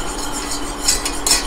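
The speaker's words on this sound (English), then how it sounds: "Now, 2 tablespoons of flour, all purpose. We'll whisk that in." A whisk stirs all-purpose flour into sizzling melted butter in a pan for a roux, with soft continuous scraping and a couple of bright metallic clinks against the pan, no voices.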